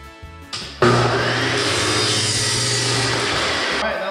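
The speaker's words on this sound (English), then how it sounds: "we're gonna cut a piece of PVC about 17 inches here real quick" A piece of PVC pipe is cut with a power tool, a loud steady whirring grind lasting about three seconds after a couple of brief knocks, then stopping abruptly.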